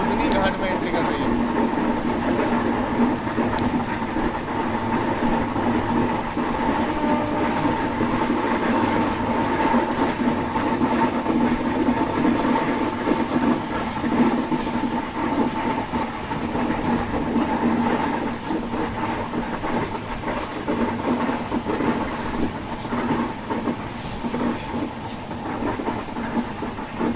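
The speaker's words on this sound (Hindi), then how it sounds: "ये है घाट सेक्शन और अपनी ट्रेन बुधनी घाट में एंट्री कर रही है।" The Sampark Kranti Express, Nizamuddin to Tirupati, enters the Budhni ghat section with a steady loud rumble of wheels and carriages, a constant drone under faint intermittent squeals and rattles throughout.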